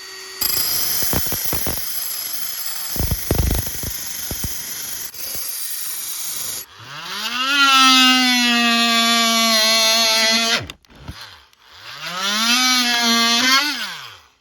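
Oscillating saw blade being sharpened on a Sharp Pog sharpener: clicks and brief rattles, then two loud, sustained whining grinds with a steady tone, the second shorter after a pause.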